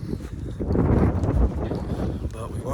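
Wind gusting across the microphone outdoors on an Alaskan hunt, a steady broadband rush with low rumbling buffets throughout, voices talking faintly underneath.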